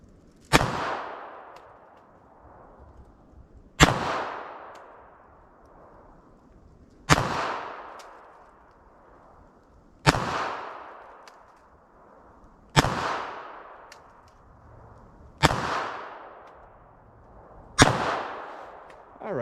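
Seven evenly spaced .32 pistol shots fired at 10 yards, each a crisp crack with a short decaying echo, paced about three seconds apart.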